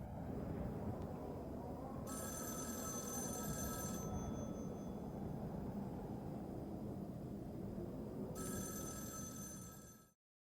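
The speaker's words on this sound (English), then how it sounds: "the phone keeps getting louder and louder" A telephone rings in two long electronic bursts over a steady, loud background hiss and rumble.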